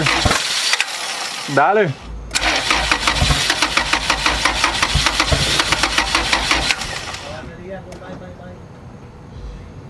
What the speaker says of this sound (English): I'll play with the throttle here.